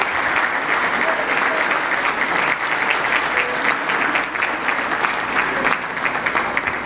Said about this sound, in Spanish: y por eso pido un aplauso más para Rogelio García